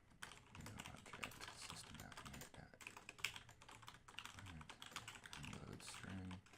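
Rapid keystrokes clatter on a computer keyboard in uneven bursts with brief pauses, close and fairly quiet, during a Hack The Box penetration-testing session.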